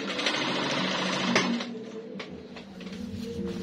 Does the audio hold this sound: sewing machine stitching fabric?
yes